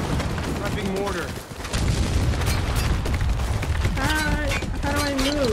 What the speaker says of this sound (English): Prepping mortar.